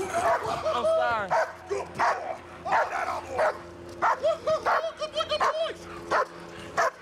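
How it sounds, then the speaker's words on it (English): Dog barking and whimpering during a police arrest, with repeated yips and barks under loud overlapping talk and shouting from officers nearby. "I told you, I have a dog"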